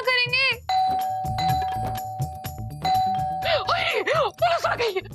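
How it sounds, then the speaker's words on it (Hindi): An electronic doorbell chimes repeatedly in a warbling melodic tune, loud and close, while a voice talks over and between the rings. "डोरबेल बजी है"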